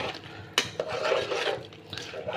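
Spoon stirring turmeric and pepper powder into a pot of boiling water for tomato rice, a sharp metal clink near the start followed by steady scraping and bubbling, close and moderately loud with no talk.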